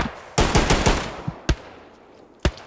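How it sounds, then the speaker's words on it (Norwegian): Gunfire in the World War II shooter Hell Let Loose: a loud automatic burst of rapid shots, followed by a few sharp single reports spaced apart, with no talking. "Skuddvekslinger øst og vest her."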